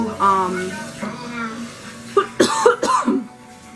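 A few sharp, harsh coughs come in quick succession after a stretch of voiced sound, close and fairly loud.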